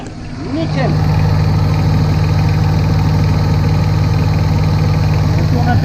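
A Yanmar 3YM30 marine diesel engine idles steadily and loudly, starting up over the first second and then holding a constant, even drone with a deep rhythmic thrum.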